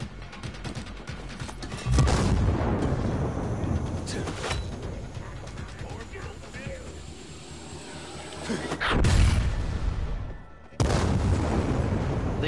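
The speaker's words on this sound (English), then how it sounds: "The grenades really don't do a crazy amount of damage though, which is annoying." Grenades detonate in the zombie game Dying Light 2, heavy booms at the start and again near the end over a constant low game rumble, with deep rolling blasts that spread across the lows.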